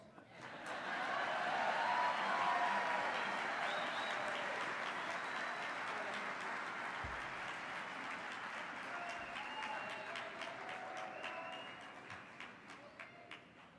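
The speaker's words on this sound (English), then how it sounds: "Give us some applause." Audience applause at the 2018 IBMA bluegrass awards greeting Kentucky Thunder with Marty Stuart, a swell of crowd clapping that rises quickly, holds steady and fades toward the end, with faint voices mixed in.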